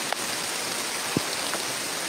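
Steady rain falls as an even, close hiss of drops on a surface with no pauses, broken only by a couple of faint ticks.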